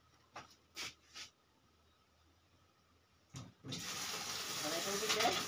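Water gushes from a household tap, starting suddenly after a few soft knocks and bumps and then running as a steady, growing splash, nearby.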